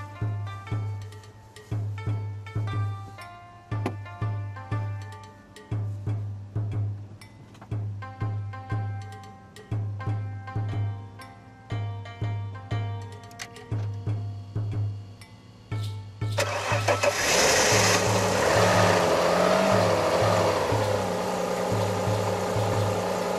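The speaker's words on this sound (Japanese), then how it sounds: "いやーすごいね、これ丸1年かけてないんだよエンジン。" An Alfa Romeo 156 engine that had not been run for a year cranks in a long series of rhythmic pulses, then catches and settles into a loud, steady roar near the end.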